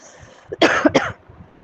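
A single sharp cough, two quick bursts close to the listener, with quiet room noise around it.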